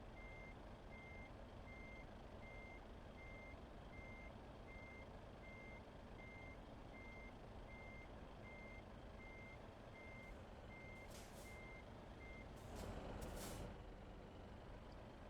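A truck's reversing alarm in Euro Truck Simulator 2 beeps in an even, regular series over a low engine rumble, ending with sharp hisses of air brakes releasing.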